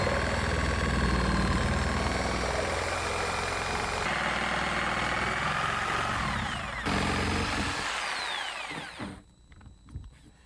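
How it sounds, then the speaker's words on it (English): A reciprocating saw cuts through a sunroom sandwich panel with a loud, continuous buzzing rasp whose pitch shifts as the blade works, then stops near the end, leaving a few brief clunks. "using my reciprocating saw, I can shove it through the hole. That way now I can cut the whole sandwich panel at one time."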